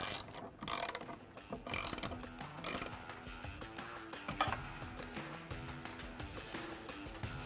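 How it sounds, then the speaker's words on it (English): A Torx T30 driver tightening pivot knuckle screws on a Trektop roof fitted to a 4-door Bronco, giving quick ratcheting clicks in short bursts, close and fairly quiet. "using our pivot knuckle screws, we're going to get that started and then use our T30 to tighten it up"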